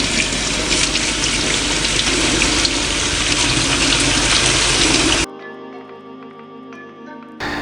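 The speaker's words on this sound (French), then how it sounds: "Et on les passe à l'eau froide." Cold tap water gushing steadily over cooked soba noodles in a sink for about five seconds, then cutting off to near silence with faint residual clatter, no talking.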